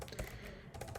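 Quick bursts of keystrokes clatter on a computer keyboard, close and fairly quiet, with a brief pause between two short runs of typing.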